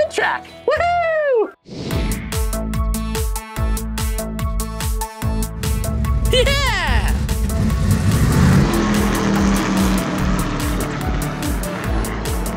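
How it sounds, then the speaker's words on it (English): A NASCAR race car on a track, its engine roaring loud and steady, rising in pitch as it speeds up, with excited shouting from people over the engine noise. "Now it's time to get this race car on the track!"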